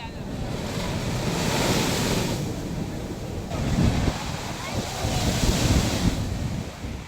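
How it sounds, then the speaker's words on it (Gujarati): Rough sea waves surge near Gomti Ghat in Dwarka during stormy monsoon high tide, a loud continuous roar of surf with heavy wind buffeting the microphone and swells peaking every few seconds. "દરિયામાં ભારે કરંટના કારણે ગોમતી ઘાટ આસપાસ અંદાજે 20 ફૂટ જેટલા ઊંચા મોજા ઉછળ્યાનો દાવો કરાયો"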